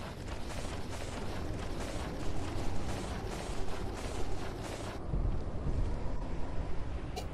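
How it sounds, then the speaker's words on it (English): Wind blowing in the video game Lethal Company, a steady broadband whooshing roar that carries on alone without voices and shifts slightly in tone partway through. "Man, it's windy."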